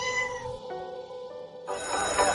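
A cat gives a couple of drawn-out, wavering meows close by, loud and clear with no other sounds around them.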